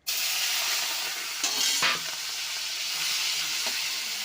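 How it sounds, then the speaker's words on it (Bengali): Prawns fry in hot mustard oil in a wok, producing a steady, loud, close sizzle with a brief bubbling surge partway through. "চিংড়ি মাছটা প্রথমে ভেজে নেব"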